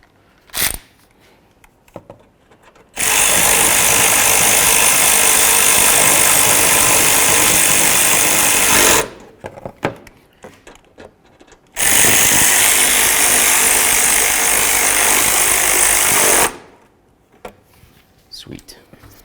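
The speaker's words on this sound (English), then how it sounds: "Let's snug those up with a 10mm." A 10mm socket snugs up bolts on a 2008–2020 Dodge Grand Caravan water pump with a loud power ratchet, in two sustained whirring bursts of about six seconds each separated by a quiet gap.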